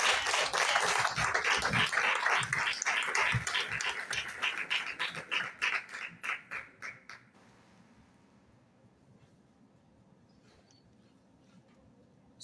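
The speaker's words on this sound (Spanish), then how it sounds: "Démosle un fuerte aplauso a nuestro Señor." A church congregation claps loudly for the Lord during a sermon, first in a dense burst and then in distinct rhythmic handclaps that taper off and stop around seven seconds, leaving quiet room tone.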